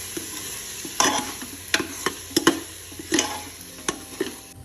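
Goat mutton masala with onions sautéing in a pan over low gas: a soft, steady sizzle broken by about eight sharp spoon scrapes and stirring knocks at irregular intervals, close up, with no talking.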